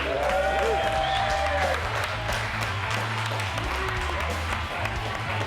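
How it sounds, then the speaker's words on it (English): Continuous crowd applause, dense clapping held steady throughout, with a voice briefly rising over it near the start and a low hum underneath. "So we have a round of applause."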